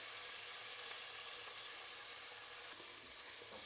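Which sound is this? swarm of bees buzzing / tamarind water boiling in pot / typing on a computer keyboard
tamarind water boiling in pot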